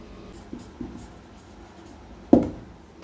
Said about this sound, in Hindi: तो यही बात यहाँ पर हम लिख देते हैं।